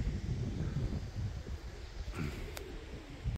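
Steady wind rushes and buffets against the microphone throughout, with a faint bird coo and a brief thump near the end.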